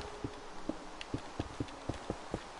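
Horse hooves clip-clop in a video game, a steady, evenly spaced walking rhythm of soft thuds, faint and alone.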